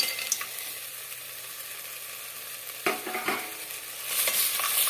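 Fried peanuts, salt and spices are mixed in a pan for red rice flakes uppittu, giving faint soft scraping and rustling stirs with a couple of louder scrapes near the end.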